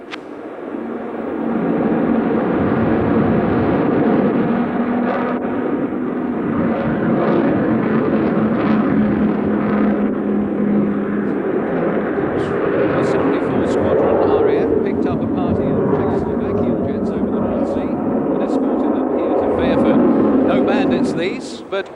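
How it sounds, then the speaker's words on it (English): An Avro Vulcan bomber at the International Air Tattoo, RAF Fairford, in 1991, taking off and climbing in a display: a loud, sustained, rumbling jet roar that holds steady throughout, with a voice talking over it. "that completes a standard Vulcan display takeoff"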